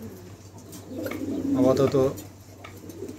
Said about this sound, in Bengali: একদম নতুন নিউ মডেল কবুতর জোড়া